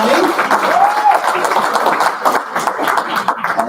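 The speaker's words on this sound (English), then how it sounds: "Big round of applause for Princess Giselle, everybody." Audience applause fills a hall at a Rotary Club event honoring a festival princess, steady and fairly loud throughout with voices mixed in.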